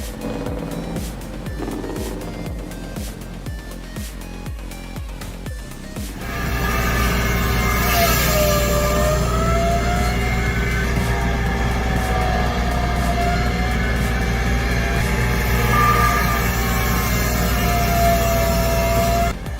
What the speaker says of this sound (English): You're listening to a 1958 Kenworth, powered by that classic 220 Cummins engine.